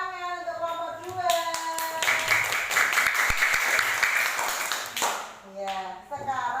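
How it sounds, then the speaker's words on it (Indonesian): A classroom audience claps for group 2, a burst of applause filling the middle of the clip for about three seconds, with a teacher speaking before and after it. "tepuk tangan untuk kelompok 2"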